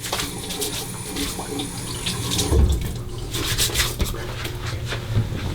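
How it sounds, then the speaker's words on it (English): Hot water runs steadily from a tap into a sink, with light splashing and a few louder splashes partway through, close by and without voices. "I'll just splash a little bit of hot water on."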